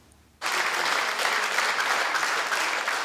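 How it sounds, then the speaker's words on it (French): Applause breaks out suddenly after a quiet moment at a municipal council meeting in Vendée, France, then continues as a dense, steady wash of many hands clapping. "Des applaudissements, de l'émotion, du respect pour saluer Jacques Oxiette"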